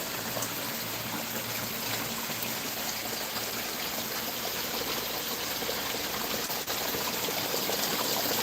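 Water runs and splashes steadily into a pond or tank, a constant broadband rushing that stays close and fairly loud with no breaks, alone without voices.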